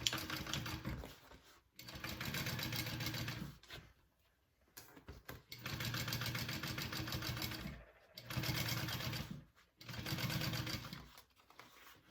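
A sewing machine top stitches through cotton and vinyl on a bowler bag, running in three or four sustained bursts of rapid, even stitching separated by brief pauses.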